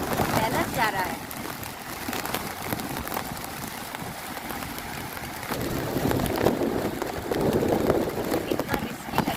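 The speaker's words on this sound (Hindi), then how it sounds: "और हवा इतनी तेज थी, इतनी तेज बारिश हो रही है" Heavy rain pours down steadily with strong gusting wind in a flooding downpour in Dharni taluka, Amravati district, a continuous loud roar throughout with a voice speaking over it.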